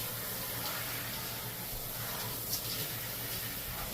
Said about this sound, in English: We're gonna rinse out now.